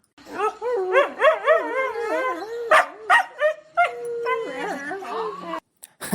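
A pet dog whines, whimpers and yips in rising and falling pitches, then gives a few short barks, close and fairly loud, with brief pauses between phrases.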